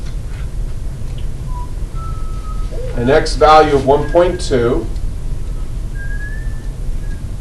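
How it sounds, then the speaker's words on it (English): A person whistles a few thin, wavering notes between bits of speech during a math lecture, faint and intermittent. "whistling as I go, always helpful."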